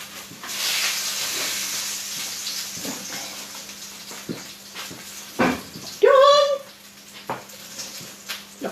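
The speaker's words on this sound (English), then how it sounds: "it's still sizzling" Smoked mackerel fillets sizzle in a hot pan with a steady hiss, interrupted by a few sharp clatters and a brief squeaky scrape, while someone talks over the frying.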